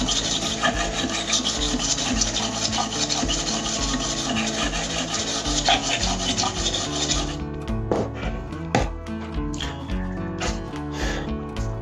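A plane iron is rubbed back and forth on a sharpening stone, giving loud, close, rhythmic rasping strokes that turn into sharper, separated scrapes in the second half.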